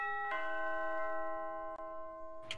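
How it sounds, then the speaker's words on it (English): A fire station doorbell in the Roblox game rings with a sustained electronic chime tone that holds steady, then a brief second chime strike near the end, loud and close with no voices. "this is the doorbell."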